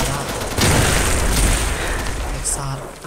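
A grenade blast in a first-person shooter game rolls out as one booming burst with a sustained rumbling tail, loud and close, briefly followed by small clicks.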